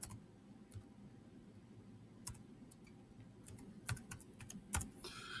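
Someone types a username on a computer keyboard. Soft, scattered key clicks come in uneven bursts over a quiet background hum, with no one speaking.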